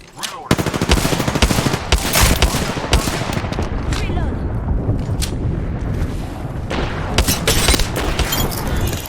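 Dense automatic gunfire in Apex Legends, loud and close, with rapid bursts and sustained volleys carrying through most of the stretch, mixed with explosive booms and brief game voice callouts.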